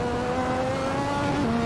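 A turbocharged Lotus 98T Formula One race car in the Assetto Corsa video game holds a loud, steady engine drone that shifts pitch near the end as the turbo spools up, with no voices present.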